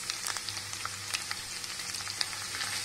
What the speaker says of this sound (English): Next we need to fry them.